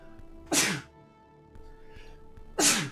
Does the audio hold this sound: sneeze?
yes